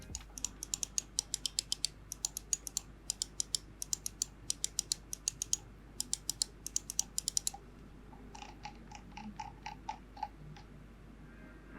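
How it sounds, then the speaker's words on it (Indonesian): Rapid bursts of crisp, close clicks from a budget Digital Alliance G8 Revival gaming mouse's switches in quick clusters, then a slower run of softer, evenly spaced clicks. "di sini gue coba tampilin untuk suara switch-nya"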